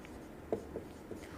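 A pen writes a while loop by hand: faint, soft scratches and taps on paper, a few short strokes over a quiet background.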